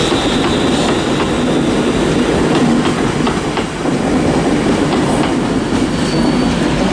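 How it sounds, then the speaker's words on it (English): A Transpennine Express train pulls out of Manchester Piccadilly station on the West Coast Main Line, its wheels rumbling and clicking over rail joints in a loud, steady roar that stays close and constant throughout. "departing out now is the 1428 Transpennine Express service from Glasgow Central to Manchester Airport"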